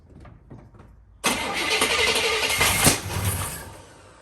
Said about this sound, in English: Backfire. Try it again.